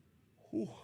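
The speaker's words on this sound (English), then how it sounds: "First yawn." A person yawns while watching a Raptors preseason basketball game, a soft, low, breathy voiced exhale that swells briefly near the end after near silence, close and quiet.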